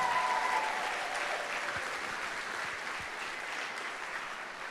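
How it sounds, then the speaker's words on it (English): Audience applause at a 1 Million Cups Fargo event: continuous dense clapping from a sizeable crowd, steady and even throughout, with no one speaking. "Let's give them a round of applause for pulling this off."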